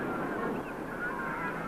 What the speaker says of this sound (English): The Canadian geese in St James's Park flight every night to the Serpentine.